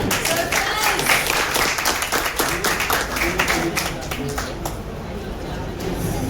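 A crowd claps at a 25th wedding anniversary celebration, with continuous applause over background chatter and hubbub, fairly loud and sustained before easing off toward the end.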